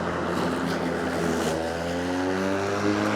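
A close cordless 40V Ryobi Cross Cut lawn mower motor whirs loudly and its pitch climbs steadily as it revs, sustained throughout without any voices.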